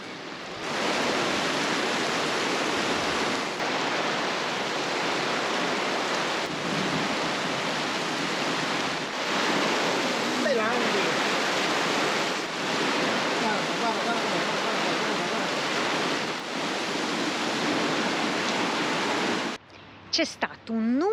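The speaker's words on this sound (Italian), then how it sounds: "C'è stato un nubifragio mostruoso e è durato un 40 minuti con forti folate di vento, pioggia da impazzire" A torrential cloudburst with strong gusts of wind batters a sailboat, a dense, roaring wash of rain and wind that stays loud and steady for about twenty seconds before briefly breaking up at the end.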